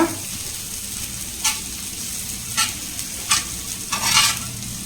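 Sliced onions sautéing across a hot dosa tawa give a steady sizzle, broken by four short scraping stirs at roughly one-second intervals, close and alone with no talking.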